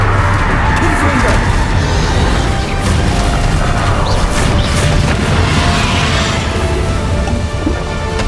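Confringo blasting spell exploding during a Hogwarts Legacy battle on PS5, a loud, dense wall of booms and crashing impacts that runs continuously through the fight with game voices mixed in.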